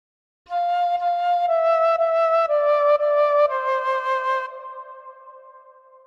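A fife plays a phrase of Twinkle Twinkle Little Star, clear whistly tones stepping downward note by note in even rhythm, the last note held and fading, played solo and close.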